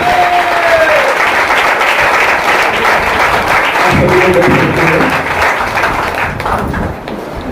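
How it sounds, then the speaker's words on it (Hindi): Loud, sustained applause from a church congregation, steady clapping from many hands throughout, easing slightly toward the end with a faint voice near the start. "और यीशु मसीह के लिए जोरदार ताली बजाएंगे जोर से।"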